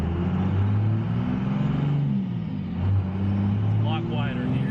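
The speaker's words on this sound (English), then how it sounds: "Let's go through the gears, see how she shifts." A truck with an NV5600 manual transmission drives and shifts through its gears, a steady loud engine rumble with rising and falling pitch as it accelerates between shifts, heard from inside the cab.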